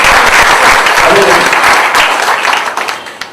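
A spiritual talk audience in Talegaon Dabhade bursts into loud, dense clapping that holds steady, then thins out and fades near the end.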